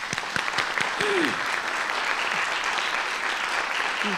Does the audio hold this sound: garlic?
no